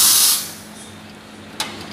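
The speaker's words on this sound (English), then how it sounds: "pinagpa-practice ko sila ng basic ng pag-steam using ice and sabon" Espresso machine steam wand used for latte art practice with ice and soapy water: a loud, rushing steam hiss at the start fades to a softer steady hiss, with one brief sharp click near the end.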